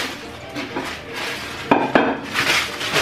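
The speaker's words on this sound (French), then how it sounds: "J'ai rempli la vaisselle." Dishes, pots and cutlery clinking and clattering as a kitchen is tidied and the dishwasher loaded, with two sharper knocks midway amid continuous handling noise, close by.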